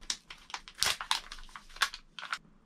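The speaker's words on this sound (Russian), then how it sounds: "давайте его распакуем, посмотрим, что он себе представляет" A round makeup sponge is unwrapped from its packaging: close, quiet bursts of plastic crinkling and rustling come in irregular handfuls, several sharper crackles among softer handling noises, with no one talking.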